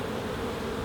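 Honey bees in a UK hive's brood box make a steady, dense buzz during swarm-prevention work, close and unbroken for the whole short moment.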